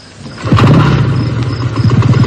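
A motorcycle engine cranks and catches, settling into a loud, close, uneven running rumble with sputtering pulses after a quiet start.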